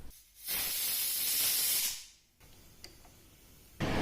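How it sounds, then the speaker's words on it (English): A pressure cooker cooking millet vents steam in a loud, sustained hiss for about a second and a half, stops briefly, and then lets out another short hissing burst at the end. "While the pressure gets released from the cooker"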